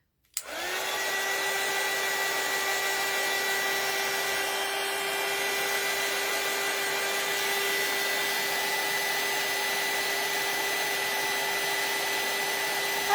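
A hair dryer starts up and runs steadily at close range, a loud continuous whine with a strong steady tone, drying paint on a handmade crow doll; no talk over it.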